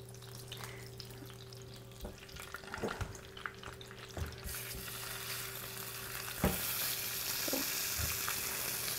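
Lamb knuckles fry in oil in a pan, a faint, steady sizzle with occasional clicks and knocks of handling, and the crackle rises louder partway through.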